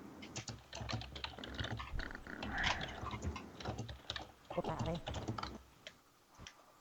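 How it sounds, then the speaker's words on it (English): Rapid keystrokes rattle on a computer keyboard at close range, steady and continuous for several seconds with a few brief pauses, while a voice talks intermittently over them. "I'll just type that in now."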